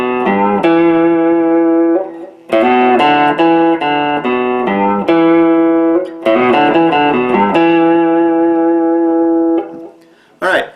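An open-position blues lick in E rings out on guitar, a run of clear plucked notes including a hammer-on, played loud and close in phrases separated by short pauses.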